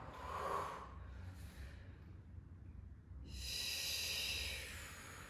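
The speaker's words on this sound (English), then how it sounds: "really like blowing those big breaths out" Forceful breaths are blown out during an upper body and legs shaping exercise class, a close, airy exhale and inhale repeated in a slow rhythm with no talking.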